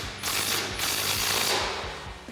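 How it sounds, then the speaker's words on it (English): An impact wrench fitted with a 15mm swivel socket hammers a 15mm bolt tight on a 2017-2025 Ford F-250 Super Duty front suspension lift. The rattling bursts are loud and close, with no talk. "Now we'll bring back our 15mm swivel socket on our impact and tighten this 15mm bolt down."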